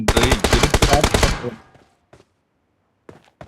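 Rapid automatic gunfire from a mobile shooting video game, a loud, fast burst of about ten shots lasting over a second, then fading into a short ringing tail and a few faint, scattered clicks.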